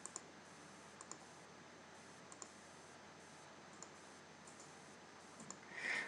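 Computer mouse clicking while a selection is traced in image-editing software: sparse, faint, crisp clicks at uneven intervals over a quiet room hiss, without any speech.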